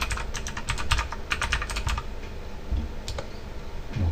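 Rapid typing on a computer keyboard, a close, steady clatter of key presses in quick bursts with brief gaps, over faint background hum.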